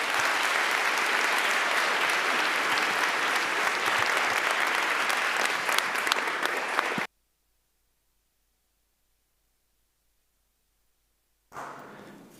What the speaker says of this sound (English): So please, a very warm applause for Dr.